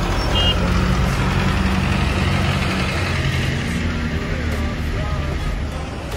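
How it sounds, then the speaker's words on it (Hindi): Dense, heavy road traffic with trucks in a busy Pakistani street, a constant loud rumble of engines and idling vehicles with a faint high electronic tone on top, steady throughout with no talk. "दूसरी जगह का ट्रैफिक आपको मैं दिखाता हूँ यार बहुत ज़्यादा है"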